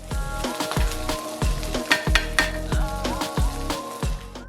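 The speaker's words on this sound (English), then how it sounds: "I like to reheat in the pan with some olive oil until the pork is nice and crispy" Leftover pernil pork crisping in olive oil in a pan gives a steady sizzle and crackle under rhythmic music with a regular thumping beat and sustained tones.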